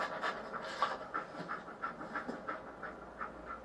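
Dogmeat, the German Shepherd companion in Fallout 4, panting in steady rhythmic bursts, close and fairly quiet over a soft game ambience.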